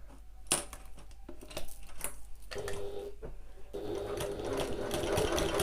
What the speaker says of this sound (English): I'm going to back stitch across the whole length and then back stitch at the other end as well.